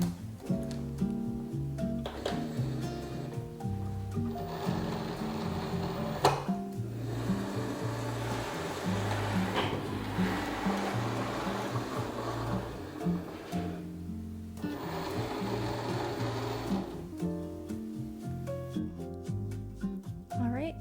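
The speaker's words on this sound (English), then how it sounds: "So the machine will try and calibrate things on its own first" A Cricut Explore cutting machine loads and calibrates itself, making irregular mechanical whirring, clicking and sliding movements at moderate volume, with a voice talking over parts of it.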